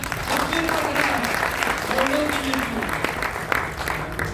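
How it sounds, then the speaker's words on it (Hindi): Loud applause for a man at a gathering, a thick steady patter of clapping from a room full of people, with a few voices heard through it. "योगेश सर के लिए जोरदार तालियां"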